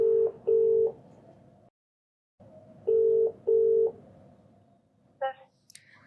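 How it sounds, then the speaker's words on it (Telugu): Telephone dial tone through a handset as a call is placed, steady tone bursts with pauses and a short gap, ending in a brief higher ringing chirp; faint room background underneath. "ఒకసారి కాల్ చేస్తానండి"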